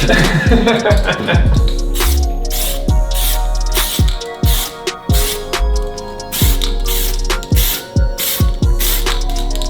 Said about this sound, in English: We are self-etch primering all of the bare metal so we can lay down primer on top of it without it rusting.